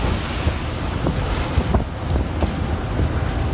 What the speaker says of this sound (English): An unexpected storm descends offshore. Waves rise like mountains.